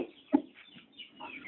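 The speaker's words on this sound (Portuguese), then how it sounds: "aqui é um frango barbudo meu, um frango até bom no varejo" A bearded chicken clucks once, briefly and close, then goes on with faint scattered murmurs and small sounds in a quiet farmyard setting.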